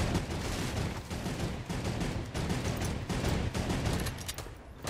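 Dense, continuous gunfire and explosions in the Fortnite Food Fight game mode fill the whole stretch, a loud, unbroken barrage of overlapping shots with no pauses and no talking over it.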